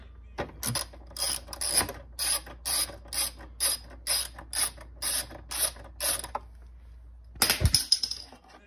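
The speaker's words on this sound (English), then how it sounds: "you gotta loosen these two bolts." Ratchet wrench loosening the two bolts on the cold-side upper charge pipe of a 2018-2022 Honda Accord 1.5T, a close series of about a dozen crisp clicking bursts in a steady rhythm, ending with a brief clatter.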